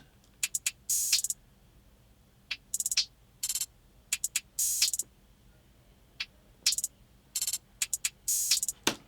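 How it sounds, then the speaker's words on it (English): Accent hi-hat samples played in sequence, crisp bright closed-hat ticks in quick clusters and short rolls with a few longer open hats, rhythmic bursts separated by near silence, no voices. "And I'll just play you all of these accent hats all together."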